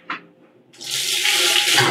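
A backyard balcony tap at a townhouse is opened and water gushes out under strong pressure, a loud, close, steady rush after a brief knock at the start.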